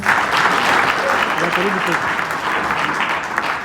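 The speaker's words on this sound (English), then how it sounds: "Can we give him a round of applause?" Loud, sustained applause from a seminar audience, with a few voices and cheers mixed in, fading slightly toward the end.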